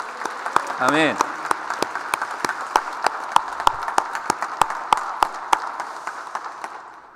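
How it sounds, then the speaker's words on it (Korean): A church congregation claps in an uneven patter that slowly thins out, while a pastor's voice sounds near the start and a brief murmured response rises from the crowd. "다시 한번 하나님께 영광의 박수 올립시다"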